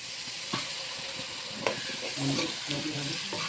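Diced potatoes frying in a pan with a soft, steady sizzle, broken by a few scraping stirs and light clinks close by.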